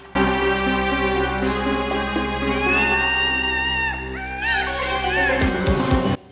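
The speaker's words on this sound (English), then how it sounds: "there were so many bird noises and bird sounds" A rooster-like crow and bird calls rise over sustained orchestral music, with warbling tones building before the music swells and cuts off.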